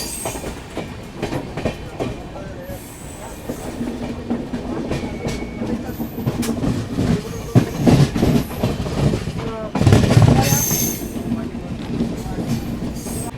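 Agartala Tejas Rajdhani Express running at about 130 on main-line rails, a continuous rumbling roar with rhythmic clickety-clack of wheels and brief squeals, heard from inside a 2nd AC coach with a voice faintly under it.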